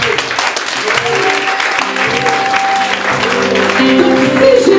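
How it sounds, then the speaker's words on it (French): A church congregation applauding and cheering to acclaim Jesus during a French-language sermon, with steady clapping mixed with crowd voices and sustained sung or shouted tones filling the room for several seconds. "Est-ce que vous pouvez acclamer Jésus?"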